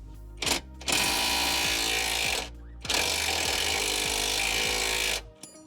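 Wrench work on a car suspension bolt during an inner CV boot replacement on a Fiat or Alfa Romeo: two long, loud bursts of harsh mechanical whirring and rattling, like a powered impact tool, separated by a short gap, close by and with no talk.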